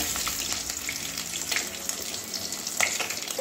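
Continuous close sizzling and spattering of bhola fish frying in hot oil, with occasional sharper pops and crackles.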